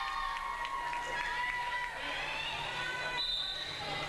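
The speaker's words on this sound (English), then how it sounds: "You can hear them cheering for both teams" A crowd at a Northern Burlington volleyball game against GCIT keeps up a steady wash of cheering and shouting, with scattered squeaks and whistles over the sustained roar.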